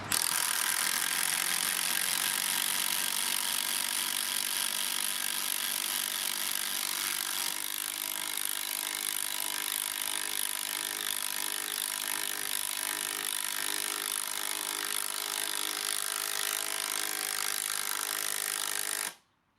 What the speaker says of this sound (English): First up, we will drive 100mm long batten screws.